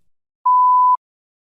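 A single steady electronic beep, a clean mid-pitched tone lasting about half a second, alone in silence.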